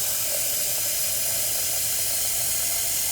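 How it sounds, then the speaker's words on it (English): Steam escaping from a hot pot of freshly cooked lemon orange marmalade, a steady broad hiss with a faint sizzle, continuous and close, with no voices. "I'm going to let some of that steam come out before I put the lid on it"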